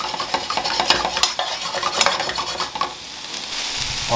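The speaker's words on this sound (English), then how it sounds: "it's always good to saute your veggies" Vegetables being sautéed in a pan for a Jamaican escovitch sauce, with steady stirring scrapes and clinks over a continuous close sizzle, no voices.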